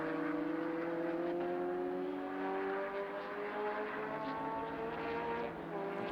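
Lotus race cars, including a Lotus 211, lapping Rockingham circuit in a Lotus Cup UK race. A continuous loud engine drone rises steadily in pitch as the cars accelerate, with layered tones from several cars and no talk.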